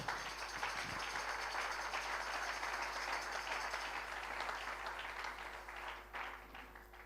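A church congregation applauding to acclaim the Lord, giving steady, dense clapping that holds for several seconds at moderate distance and thins slightly toward the end.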